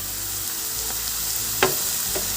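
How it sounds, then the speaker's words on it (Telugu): Grated carrot sizzles and fries steadily in hot tempering oil, with a couple of sharp stirring scrapes breaking through the continuous hiss. "తురిమి పెట్టుకున్న క్యారెట్ని కూడా ఇందులోనే ఆ తాలింపులోనే వేసుకోవాలండి"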